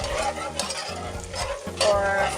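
Onions and seasoning sautéing in a pan for a white lasagna, a steady close sizzle with stirring scrapes throughout, no talk.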